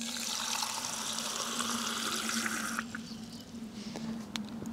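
Water from a tank pours in a steady, loud rushing stream under a low hum, then eases to a quieter trickle with a few drips near the end.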